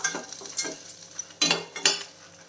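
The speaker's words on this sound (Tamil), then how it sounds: "இது கூடவே நாம் ஒரு அரை கப்பு பொட்டுக்கடலை இதையும் சேர்த்து லோ ஃப்ளேமில் வச்சு வறுத்துடலாம்" Half a cup of roasted gram (pottukadalai) with a little tamarind dry-roasting on low flame, heard as a few separate scraping stirs and soft rattles against the pan in short bursts, with quiet gaps between and no voices.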